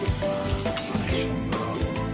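Chicken pieces fry in a pan of cooked-down spiced masala, giving a steady close sizzle with occasional stirring scrapes and bubbling pops.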